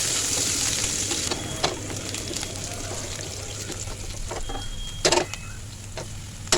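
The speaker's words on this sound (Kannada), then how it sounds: "ಆ ಈರುಳ್ಳಿ ಹಾಕ್ಕೊಂಡಿದ್ದೀನಿ ಮತ್ತು ಕರಿಬೇವು ಹಾಕಿ ಫ್ರೈ ಮಾಡ್ಕೊಳ್ತಾ ಇದ್ದೀನಿ" Onion and curry leaves frying in a pan for a Kannada tomato gojju, a steady broadband sizzle running throughout with a few brief louder clinks of stirring near the end.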